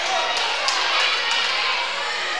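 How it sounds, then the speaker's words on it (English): A crowd at a varsity volleyball match between O'Neill and Crofton roars loudly and steadily in a gym, a dense wash of cheering and shouting that never lets up, with a few sharper yells poking through. "Crowd's getting pretty loud."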